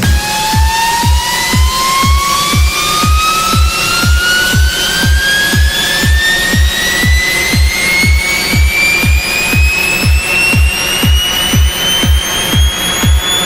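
A steadily climbing synthesized tone rises slowly in pitch over a pulsing, regular beat, loud and continuous with no voices.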